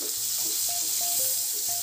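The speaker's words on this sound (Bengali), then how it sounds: "উচ্ছের সাথে নাড়াচাড়া করে ভেজে নেব" Bitter gourd and vegetable stems fry lightly in hot oil, giving a steady close sizzle with a few soft stirring knocks, no voices.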